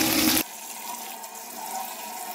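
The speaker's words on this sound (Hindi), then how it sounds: "आपने इस तरह इसके ऊपर टैप वाटर जो है वो अच्छे से डाल देना है" Tap water pours over boiled egg noodles in a kitchen, a loud splashing rush for the first half second, then a softer, steady trickle of running water for the rest.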